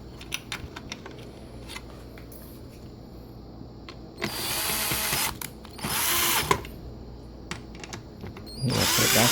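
A power drill driving screws back into a dishwasher during a soap dispenser repair, with three sustained whirring bursts of a few seconds each between quieter clicks and handling noise, close by.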